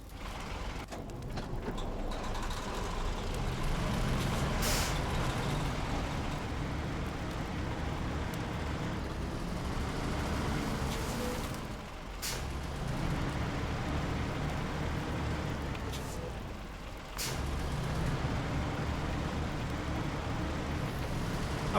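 A truck in the off-road driving game SnowRunner runs with a continuous rumbling engine and mechanical clatter for about twenty seconds. The sound dips briefly twice and carries no talk.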